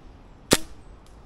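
A single sharp, close crack from a Novritsch SSQ22 airsoft rifle fired through a chronograph, a brief snap over a quiet background followed by a faint tick.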